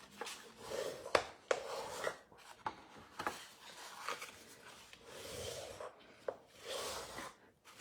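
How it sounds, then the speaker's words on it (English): Paper being folded and burnished with a bone folder for a custom gift box lid and base, heard as soft rasping rubs and sharp creasing taps in irregular bursts, fairly quiet and close, with no talking. "I'm going to do is fold and burnish on all sides"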